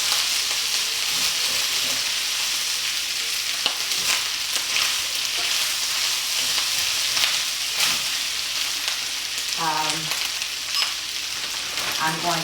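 Kung pao chicken fried rice with red bell pepper and peas being stirred in a hot pan, giving a steady loud sizzle with scattered clinks and scrapes throughout and brief vocal sounds near the end.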